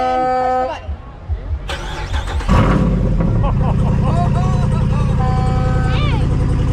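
A Hemi 392-powered pink Jeep at a touch-a-truck event in Rising Sun, Maryland, starts with a loud engine roar and settles into a steady, close idle rumble, with people talking nearby and crowd noise in the background.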